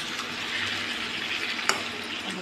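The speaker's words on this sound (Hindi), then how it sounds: "अब इसमें हम ये आलू गोभी भी डाल दिया।" Potatoes and cauliflower sizzling as they fry in a pan for a dish made without garlic or onion, a steady close hiss with one brief sharp clink partway through.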